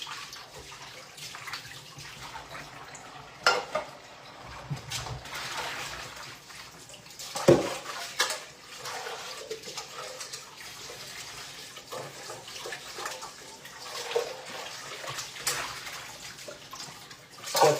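Running tap water pours while a cooking pot is washed, a steady splashing rush with occasional clanks and knocks of the pot, fairly quiet and without talk.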